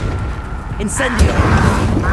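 An Incendio fire spell cast in the video game Hogwarts Legacy, a booming whoosh of flame that swells and rumbles through a couple of seconds amid game character voices and combat effects.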